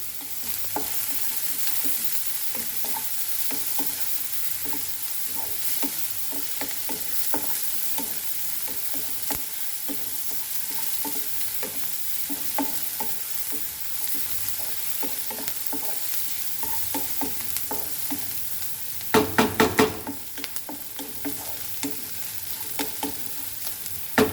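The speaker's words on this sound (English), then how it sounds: "fry this nicely" Monaco biscuit party snacks frying in a pan, a long steady sizzle with rhythmic stirring scrapes throughout and a louder clatter of stirring near the end, close and continuous with no one talking.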